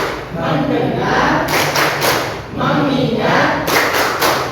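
A class of Indonesian students performs a rhythmic focus clap, bursts of many hands clapping in unison alternating with group chanting, loud and close throughout.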